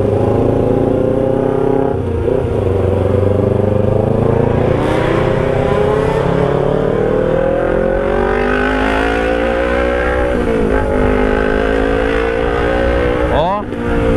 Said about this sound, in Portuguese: a moto, por ser uma moto de 250 cilindrada, rapaziada, responde bem, hein?